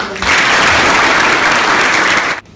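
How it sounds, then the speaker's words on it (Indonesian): Loud, dense applause from a gathering of high school students at a police station event in Batu starts abruptly, holds steady, then cuts off sharply near the end. "tepuk tangan"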